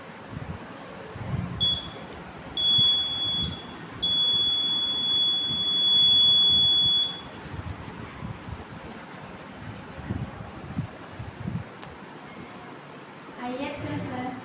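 A buzzer on a home security alert rig built with an IR sensor, ESP8266 board and breadboard sounds in a few steady, shrill electronic bursts, the longest lasting about three seconds, over a noisy room background.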